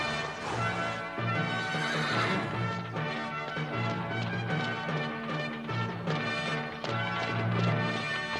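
A horse neighs and whinnies loudly while hooves clip-clop steadily beneath it, with the sound continuous and close from start to finish and no speech.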